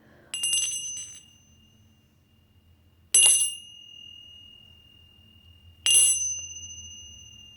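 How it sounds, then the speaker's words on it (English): Tibetan prayer bells ring three times, each a clear bright chime that decays slowly, struck at even spacing in a quiet room before meditation. "these are Tibetan prayer bells, very inexpensive on Amazon."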